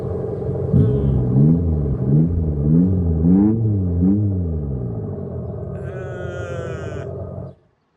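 An Abarth 500e electric car's artificial engine sound speaker: a synthetic warbling tone rises and falls in a repeating pattern over a low rumble, loud and close outdoors, then a high whine before cutting off abruptly.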